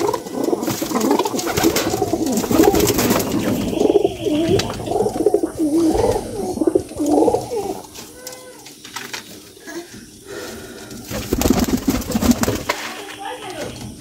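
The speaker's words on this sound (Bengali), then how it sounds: "আরও একটি কবুতর আমি আপনাদেরকে দেখাই।" Pigeons coo in soft repeated throaty phrases, close by, with bursts of wing flutter or rustling and a person talking at times.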